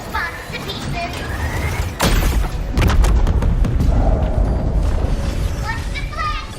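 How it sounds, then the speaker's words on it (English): Deck cannons fire in the Xuanfang episode of the video game Wuthering Waves, blasting incoming bombs: heavy booms and rumbling thuds roll in from about two seconds on, layered under character dialogue and game effects. "Let's blast those bombs to pieces."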